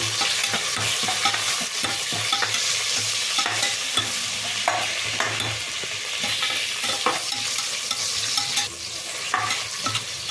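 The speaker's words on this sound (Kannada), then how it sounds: "ಈರುಳ್ಳಿ ಎಣ್ಣೆನ ಚೆಂದ ಫ್ರೈ ಆಗಬೇಕು" Onions frying in oil in a pot for chicken pulao, a steady close sizzle broken by frequent scraping stirs and light clatters of a spoon against the pan, with no voices.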